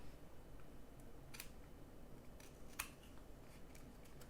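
Faint snips of scissors trimming a card in a papercraft project, a few soft isolated cuts over quiet background hiss.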